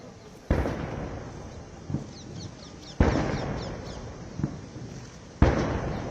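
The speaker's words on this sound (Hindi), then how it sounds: "इक्कीस तोपों की सलामी के साथ स्वागत।" A 21-gun artillery salute at a state welcome ceremony in Delhi: three loud, heavy booms about two and a half seconds apart, each with a long rolling tail, separated by fainter distant reports, with birds chirping in the background.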